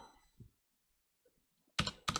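Two sharp, close clicks of computer keyboard special keys such as Home, End, Page Up, Page Down and Caps Lock, pressed one after another after a quiet pause.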